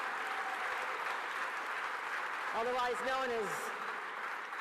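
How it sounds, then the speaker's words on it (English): Crowd applause at a breakfast event, a steady wash of clapping under a voice speaking over it. "let's give a round of applause to the Secretary to the Governor"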